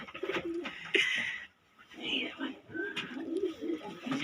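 A favourite Andhra-breed pigeon coos up close in low rolling phrases with a short pause in the middle, while a person's voice is heard among the calls.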